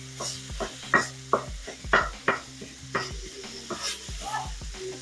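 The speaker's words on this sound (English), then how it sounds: "Now let's break up this beef." Ground beef browning in a frying pan while a utensil breaks it up, with repeated scraping and knocking strokes over a steady soft sizzle, close and fairly quiet.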